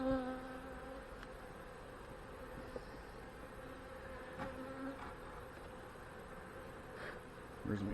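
Honey bees drone softly around an open hive during a check for swarm cells, a faint, steady hum with individual bees whining past close by and occasional light knocks.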